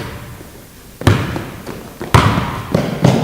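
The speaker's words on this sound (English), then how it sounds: "Go ahead, inside hand layup here." A basketball bouncing on an indoor court during a layup drill at a clinic: three loud, separate thuds spaced about a second apart over steady gym noise, with no talk.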